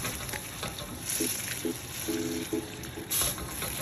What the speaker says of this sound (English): our sauce is now bubbling